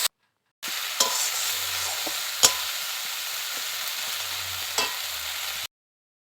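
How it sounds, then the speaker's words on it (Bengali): Spice paste with a splash of water fries in a pan for a rohu fish curry with cauliflower and potato, a loud even sizzle broken by three or four sharp spatula scrapes, then ending abruptly. "মশলাটা যাতে নিচে ধরে না যায় তার জন্য আমি একটু জল দিয়ে আর একটু ভালো করে কষে নেব"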